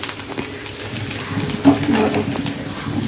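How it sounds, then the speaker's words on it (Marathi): Potato pieces fry in a pan, giving a steady moderate sizzle with a few stirring scrapes and one brief clink partway through, close by with no talking. "चांगला असा कलर येईपर्यंत आपल्याला त्यांना चांगलं फ्राय करायचं आहे"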